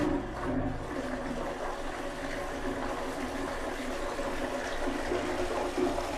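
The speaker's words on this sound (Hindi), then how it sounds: "यहाँ से मैं फ्लश कर रहा हूँ, देखिए फ्लश किया" Indian squat toilet (Odisha pan) fitted with a PVC siphon being flushed, a continuous rushing, gurgling water flow lasting several seconds, close and fairly loud, with no talking over it.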